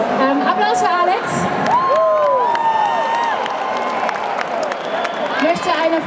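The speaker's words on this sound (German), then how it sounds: "Applaus" A concert crowd at Schalke in Gelsenkirchen cheers, whoops and applauds in a loud, continuous wash, with a voice speaking over the noise at times.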